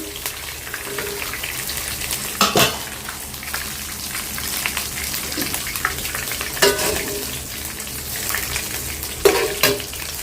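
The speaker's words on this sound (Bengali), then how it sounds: "এখানে আমি একটু চিকেনটা ভেজে উঠাই নিলাম" Chicken fries in a pan with a dense, continuous sizzle, close and fairly loud, with a few sharper bursts of crackle or stirring along the way and no talking.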